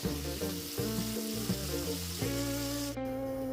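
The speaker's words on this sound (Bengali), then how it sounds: "এরপর দিয়ে দিচ্ছি ভেজে রাখা ফুলকপিগুলোকে।" Fried cauliflower drops into a hot, sizzling pan while a Bengali koi fish curry is being made. A steady, hissing sizzle runs under background music. No one speaks.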